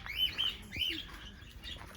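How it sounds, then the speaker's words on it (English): Cockatiels chirping in a large aviary, a few short bright calls in quick succession at close range over a faint background. "Lots of birds, lots of cockatiels."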